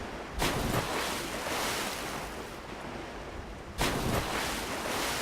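Deep water splashing in Dark Souls 3 gives a soft, continuous watery wash with two sharper splashy bursts, quiet and without voices.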